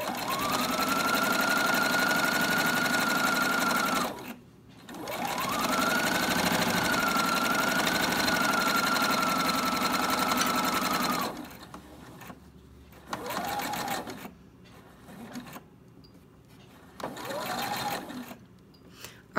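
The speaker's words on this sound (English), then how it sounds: "I backstitched a few stitches there as well" A sewing machine runs in long steady bursts, a whirring motor hum with a rising pitch at the start of each run, then shorter stop-start bursts of stitching as it backstitches fabric.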